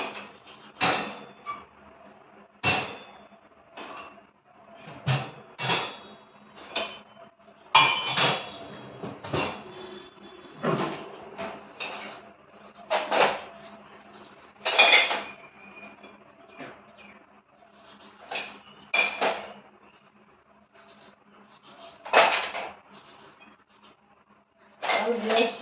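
Washed dishes and glass tumblers are set away one after another in a home kitchen, each producing a sharp clink or clatter at irregular intervals, close and fairly loud, with a faint voice underneath.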